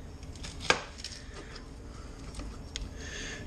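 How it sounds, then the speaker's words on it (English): A knife chops an onion on a board, one sharp close strike followed by a few softer cuts over low kitchen background noise. "I'm going to go ahead and cut up my my onion."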